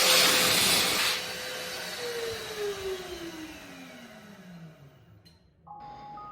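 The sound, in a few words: Velo Pebble hand dryer running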